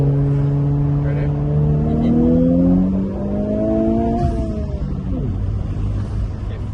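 A Subaru BRZ or Honda Civic Type R pulls hard at full throttle, its engine note climbing loudly through the revs, shifting, and climbing again, heard from inside the cabin.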